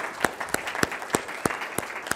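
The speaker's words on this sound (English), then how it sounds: "round of applause" A church congregation applauds the volunteers who decorated the building, the sound carried by a brisk run of distinct, evenly spaced claps over a light bed of scattered crowd clapping.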